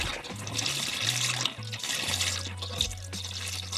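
Antifreeze glugs and splashes as it is poured into the engine of a Chrysler 300, a steady close gurgling stream with shifting low bubbling pulses and no talk.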